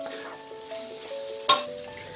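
Boiled fish filling for Bengali fish kachori, seasoned with Kashmiri chilli powder, frying over a medium flame: a soft continuous sizzle under a faint steady hum, with one brief louder scrape near the end.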